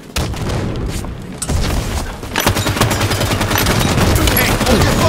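Halo 5 Warzone gunfire rings out at close range: loud overlapping bursts of automatic shots and heavy booms that thicken into a continuous barrage toward the end.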